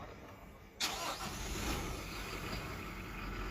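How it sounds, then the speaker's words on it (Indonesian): A Toyota Fortuner VRZ facelift SUV engine starts from the push-button start-stop switch with a sudden cranking burst, then settles into a steady, moderately loud idle heard from inside the cabin. "tekan start stop engine button yang ada di sebelah kanan sini untuk menyalakan mesinnya"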